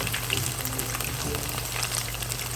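Fish pakora sizzling in oil over medium-low heat, a steady, continuous frying crackle with a low background hum.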